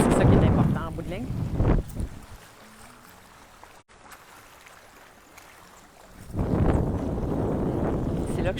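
Wind gusting hard across a microphone beside calm water at Bacalar, loud buffeting bursts at the start and end with a quieter stretch between.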